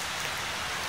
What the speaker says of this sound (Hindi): कराची में सर्दियों की बारिश जोरों शोर से जारी है, ठीक ठाक तेज बारिश हो रही है कराची में